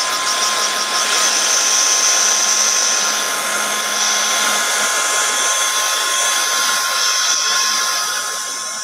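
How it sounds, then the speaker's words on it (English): A hair dryer blasts steadily on a craft piece, a loud continuous whine with a bright high tone, holding nearly constant for about nine seconds and easing slightly at the end; no one speaks. "Give this all a bit more of a blast dry."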